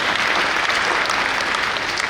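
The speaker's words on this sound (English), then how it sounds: "Please, a round of applause." A symposium and book launch audience gives a steady round of applause, continuous clapping throughout with no speech.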